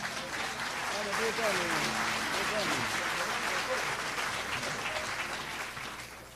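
Warm crowd applause at a live Peruvian music show; the steady clapping runs throughout while voices carry over it, then it fades toward the end.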